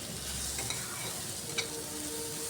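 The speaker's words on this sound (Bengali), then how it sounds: "এভাবে কিছুক্ষণ ভেজে নেওয়ার পর দেখুন পেঁয়াজের কালারটা চেঞ্জ হয়ে এসছে" Chopped onion, ginger and garlic frying in a pan, a soft continuous sizzle with a couple of brief stirring scrapes, close and steady with no talk.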